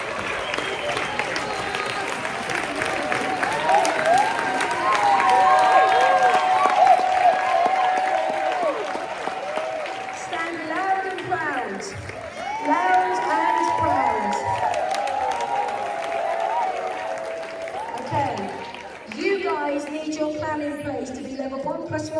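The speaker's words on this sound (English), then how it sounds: "Give these guys a big round of applause" A business event audience applauds level 1 chairman's bonus qualifiers, with clapping and cheering and some whoops swelling and fading over about twenty seconds, while a voice carries over parts of it.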